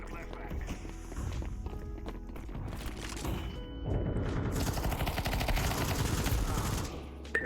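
AK rifle fire in Counter-Strike 2 cracks out in dense, rapid bursts that grow heavier midway, with a voice talking underneath.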